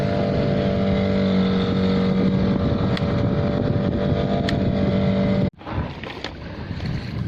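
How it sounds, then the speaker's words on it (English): A small motor sailing boat's engine drones steadily as it pushes along a coastal passage toward Port Stephens, a loud continuous hum with wind, cutting out abruptly near the end before rougher water and wind noise follow. "the little engine's pushing us along"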